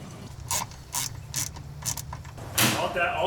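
A fuel filter housing on an LS3-swapped Miata is primed before hooking up the surge tank pumps, several close mechanical clicks and short ratcheting pumps in an uneven rhythm, with a voice faintly underneath.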